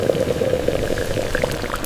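Tea being poured at a village tea stall, a steady bubbling, splashing stream of liquid lasting a couple of seconds, close and fairly loud with no voices.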